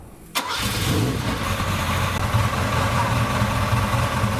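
A Ferrari 308 engine cranks from cold and catches with a sharp start, then settles into a steady, loud idle rumble.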